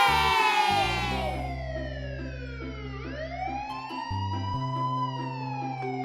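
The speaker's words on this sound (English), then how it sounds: "Police car." Police car siren wailing loudly, its pitch sweeping up and down in repeated cycles over a low steady background hum, with no voices.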